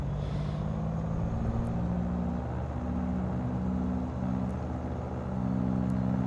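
Twin engines of a Piper PA-44 in a flight simulator game drone steadily at about 1500 RPM with the prop set high, a low, even hum with no talk.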